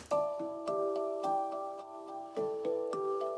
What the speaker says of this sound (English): this handpan sound that I have, and it sounds like this.